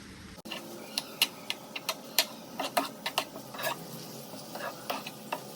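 A spoonful of ginger garlic paste for an egg curry sautés in a pan with a soft sizzle, while a spatula scrapes and clicks against the pan in quick, irregular strokes, close by and without talk.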